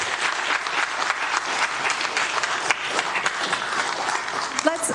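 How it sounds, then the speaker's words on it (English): Audience applause fills a city council meeting chamber, a steady dense clapping from many people that runs throughout at moderate loudness, with faint talk mixed underneath. "Let's hold your applause to the end, please"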